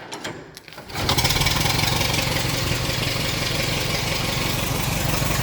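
A hand-cranked Ford Model T engine catches on magneto after a short cranking effort, then settles into a loud, steady, close idle running alone.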